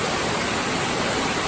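A waterfall beside a creek on a mountain hiking trail near Mount Rogers roars steadily and close, a dense, unbroken rush of falling water with no voices.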